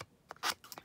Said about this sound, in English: You can use the edge of your scissors